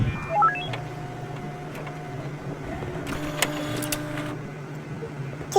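A printer in a hospital-themed video game prints a badge: a rising sequence of electronic beeps followed by a short mechanical whir and clatter, over a steady low background hum.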